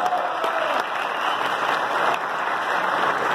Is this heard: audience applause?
yes